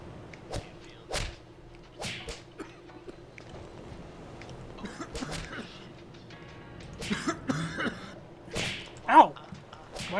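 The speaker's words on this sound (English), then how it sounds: "Why do I sound like a guy when I cough?" Several sharp, harsh coughs scattered across the stretch, some loud and close, with a little background noise between them.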